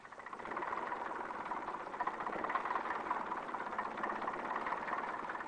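A classic car engine runs with a steady, even vibrating hum at moderate loudness, its pulsing drone continuous and unchanging, with no voices over it.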